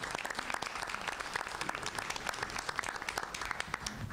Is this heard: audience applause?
yes